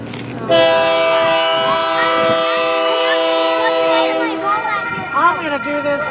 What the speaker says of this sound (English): After this train leaves, you can probably just take a ride from here